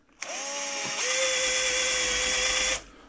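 A small cordless drill drives a Parkside tap. A high motor whine starts suddenly, shifts pitch about a second in, then runs steadily before cutting off. It is close and alone with no talk.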